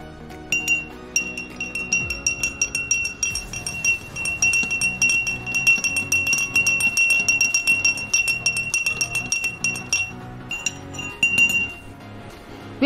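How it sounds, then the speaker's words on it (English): A utensil stirs a mixture of hydrogen peroxide, dish soap and food coloring in a glass, giving rapid, rhythmic clinks against the glass up close for several seconds before briefly pausing. "Now we will stir it."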